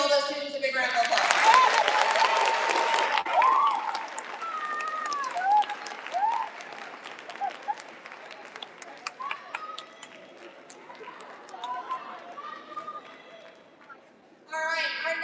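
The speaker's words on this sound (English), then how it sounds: "give all those students a big round of applause" A school audience at a ninth-grade awards ceremony bursts into loud applause for students, then the clapping thins out into scattered claps, with children's voices chattering and calling over it.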